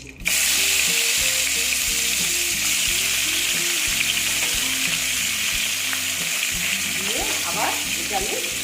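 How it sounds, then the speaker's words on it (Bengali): Pabda fish sizzling and crackling in hot oil in a wok, loud and steady throughout, with faint scraping near the end. "ভেজে নিচ্ছি বন্ধুরা কড়াটা তো গরম হয়ে গেছে"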